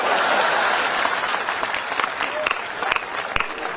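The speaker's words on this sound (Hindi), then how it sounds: "और ताली तो आप इस बात पर बजाओगे" A comedy show audience applauds at a Sampat Saral performance, with dense, steady clapping that holds loud throughout and a few sharper claps standing out near the end.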